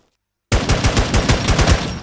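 Rapid automatic gunfire in the Warz Legend video game, a loud burst of closely spaced shots starting abruptly after a short silence and running steadily to the end.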